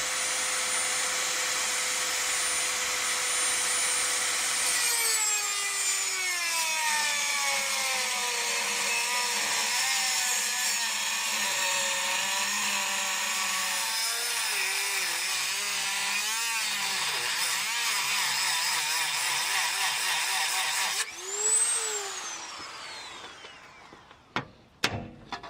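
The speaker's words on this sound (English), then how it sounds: "I'm just going to cut the thread. Literally just cut the top off, cut the nut off" A power tool cuts through the seized tie rod end nut on a BMW E65/E66 7 Series. It gives a loud, sustained whine whose pitch drops and shifts under load for about twenty seconds, then spins down, followed by a couple of sharp clanks.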